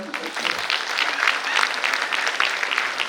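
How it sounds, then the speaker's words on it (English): A college expo audience applauds dance performers, a dense, steady round of clapping that stays loud and full throughout. "Give a round of applause to them."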